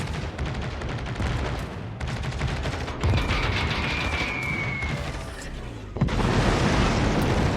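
Carpet bombs from an aircraft carrier strike in a naval battle video game explode in a dense, rumbling barrage, with overlapping booms and crackling blasts that swell in waves and stay loud throughout.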